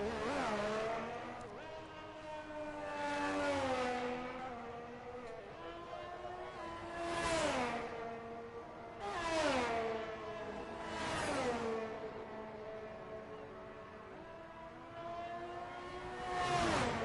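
Race car engines in a Formula 1 style racing video game at Azerbaijan, high revving whine rising and falling through repeated gear shifts as cars pass, fairly loud and continuous with no talking.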